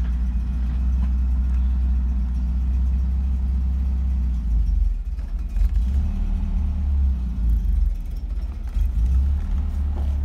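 Mercedes 190SL engine running cold on a test drive, a steady loud low rumble inside the car that holds for about ten seconds with slight dips around the middle and no talk.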